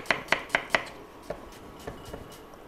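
A knife chops briskly on a cutting board, four crisp quick strokes followed by a few softer, slower taps, close and clear with no talking.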